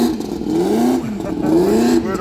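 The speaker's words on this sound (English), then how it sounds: "We're at a racetrack, so we got noise in the background from the engine" Race car engines at a racetrack, a steady rising and falling whine of revving motors in the background under talk.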